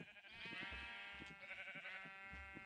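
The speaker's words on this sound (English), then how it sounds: "we should have some yellow sheep popping out" Yellow sheep in Minecraft bleat in a run of wavering, nasal cries with a faint low thump under them, heard alone at low volume.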